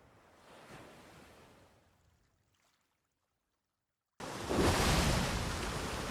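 Ocean waves and wind surround a sailing ship with dark canvas sails heading north, a soft wash fading into near silence before a loud, dense roar of surf and gusting wind surges in close.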